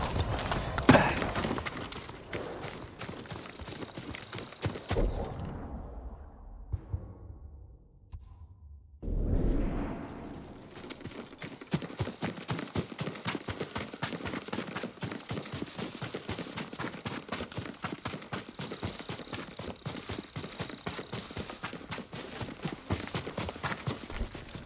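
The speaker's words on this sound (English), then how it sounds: "Yuriko's horse. She can't be far." A horse's hooves in Ghost of Tsushima, a samurai video game: steady rhythmic clip-clop, loud and close, briefly dropping out midway before resuming at a quick, regular pace.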